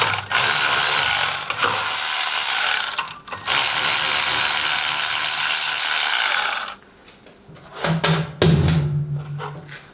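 Clutch sheave on a KRX S2 clutch kit turned by hand with the belt fitted, a loud rough ratcheting mechanical whir in long stretches, then quieter clicks and thumps.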